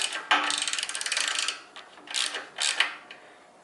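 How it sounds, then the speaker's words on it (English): A hand ratchet with a 14mm socket tightens a bolt while installing a motorcycle jockey shifter and suicide clutch, a fast run of close clicks followed by two shorter clicking bursts, with no talking. "Get your 14mm socket right there on a ratchet and tighten that down."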